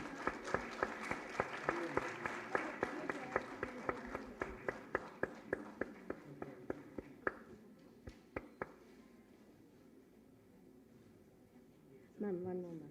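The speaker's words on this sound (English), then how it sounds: "Please give a big round of applause" Audience applause at a university women's event, with sharp individual claps rising over a steady crowd clapping that fades out midway, followed by quiet and a voice near the end.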